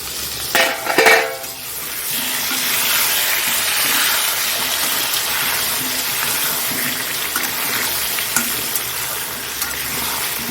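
Chicken and potatoes fry in a pan after garlic and ginger paste go in, giving a steady broadband sizzle throughout with a few brief clatters and stirring scrapes near the start, no talking.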